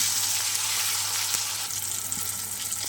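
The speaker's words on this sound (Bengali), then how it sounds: "টমেটোটাও দিয়ে দিয়েছি, জিরে গুঁড়ো, লঙ্কার গুঁড়ো, হলুদ গুঁড়ো, স্বাদ মতো লবণ। এবার আমি সুন্দর করে ভেজে নেব।" Tomato frying in oil with cumin, chilli and turmeric powders and salt, a steady close sizzle and crackle that runs continuously, with a faint stir partway through.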